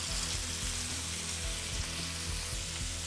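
Beef tenderloin searing in hot oil in a pan, a steady dense sizzle filling the whole stretch at close range, loud and unbroken with a faint low hum beneath.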